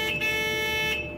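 Earth leakage alarm on an electrical fire alarm panel sounding during a circuit test, a loud, steady electronic tone that holds throughout and tails off slightly at the end, alone and close.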